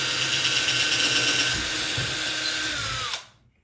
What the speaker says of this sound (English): start drilling holes.